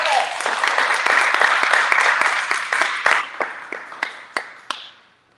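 Audience applause at a grand opening event, a dense burst of many hands clapping that thins into scattered individual claps and fades out over several seconds.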